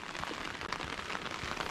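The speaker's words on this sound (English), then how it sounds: "you can hear the rain hitting my umbrella" Steady rain patters on an umbrella along a lakeside path at Lake Louise at dawn, a dense, continuous drumming of drops close overhead with no voices.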